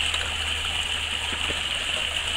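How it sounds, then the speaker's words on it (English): Water gushes from the impetus valve of a hydraulic ram pump set in a creek, fed by 80 feet of drive pipe with about a 6-foot fall. The rush is close and constant over a low steady hum. "Here you can see the water flowing up out of the impetus valve on the ram pump that I've installed in my creek."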